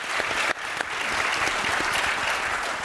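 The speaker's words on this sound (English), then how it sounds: "Let's give them an applause" An audience at an entrepreneurship talk applauds with steady, dense clapping that fills the whole few seconds at moderate loudness, with no voices over it.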